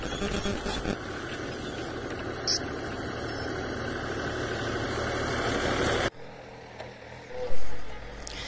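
A JCB excavator's diesel engine idles nearby with a steady low rumble and vibration, cutting off abruptly partway through, followed by quieter ambient noise and a brief thump.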